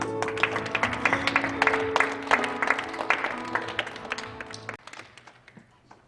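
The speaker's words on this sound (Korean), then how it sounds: "우리 주님께 영광의 박수를 올려드렸습니다" A congregation at a Tuesday worship meeting claps in a steady, fairly loud round of applause that fades out toward the end, with a voice speaking under the clapping.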